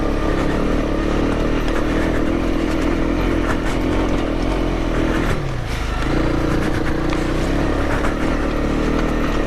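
A Honda CRF 250 Rally motorcycle rides along North Devon trails and lanes, its engine droning steadily and loud throughout, with wind buffeting and a brief dip in pitch midway as the rider eases off.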